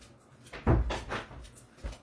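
A house door swings shut after a dog is let in, giving a short knock or thud with a softer follow-up rattle, close by and over in about a second.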